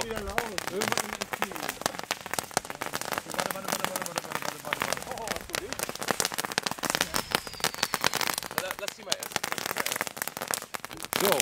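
A firecracker carpet, a long string of firecrackers, goes off on New Year's Eve in a dense, continuous crackling barrage of rapid sharp pops lasting over ten seconds, loud and close, with people's voices mixed in.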